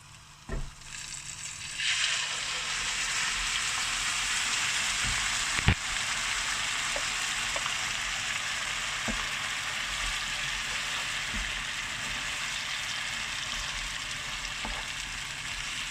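Ground paste for paneer butter masala sizzles and fries steadily in a hot pan, a loud continuous hiss that starts up after a brief quieter moment and holds evenly, with a few faint clinks along the way.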